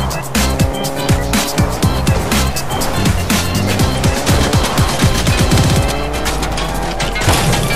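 Cars drive through a Fortnite match with tires squealing over loud continuous engine roar, with crashes and game sounds mixed in, dense and steady for the whole stretch.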